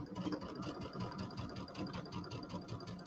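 A sewing machine stitches quilt pieces together, a steady mid-pitched mechanical whir with a faint regular needle pulse running throughout at a close, even level.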